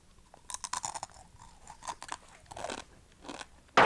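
Crunching and chewing of Buldak crushed ramen snack, dry broken noodles coated in spicy powdered seasoning: close, irregular crisp bites and munching, growing busier and ending in a loud crunch.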